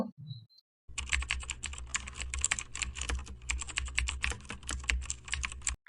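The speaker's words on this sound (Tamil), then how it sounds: "ஸோ அதை அப்படியே நான் பார்த்து டைப் பண்ணிக்கிறேன் என்ரோல்மெண்ட் ஐடியை." Someone types an enrollment ID on a computer keyboard. A steady, rapid run of close, crisp key clicks follows a brief pause, continuing alone without talk.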